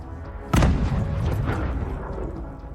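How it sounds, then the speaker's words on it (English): A sudden heavy boom from an ammunition depot exploding bursts out and then rumbles and decays slowly, distant and low, with no voices. "ammunition depots erupting with massive secondary explosions"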